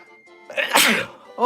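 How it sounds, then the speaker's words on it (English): A single loud sneeze, a short inhale then a sharp burst, close to the microphone. "I always sneeze in this room."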